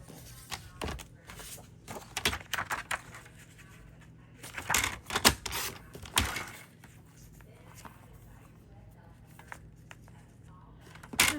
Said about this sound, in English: let's see if I cut these down to a 1/2 inch, what happens